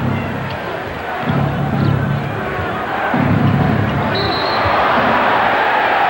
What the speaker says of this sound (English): Dennis Rodman's got this crowd whipped up now